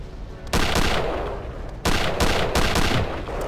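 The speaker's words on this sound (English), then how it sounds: "Technically it's a machine gun." Machine gun fire in the video game Return to Castle Wolfenstein, loud rapid bursts of shots in two long strings with short pauses, no talking.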